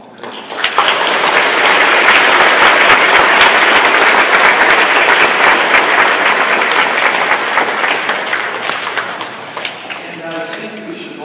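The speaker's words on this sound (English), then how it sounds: "we can even give them a little round of applause" Applause at a Catholic school back-to-school gathering for the principal and teachers: a loud, dense wash of clapping that starts almost at once, holds steady for several seconds, then thins into scattered claps near the end.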